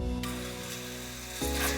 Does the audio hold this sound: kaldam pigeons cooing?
no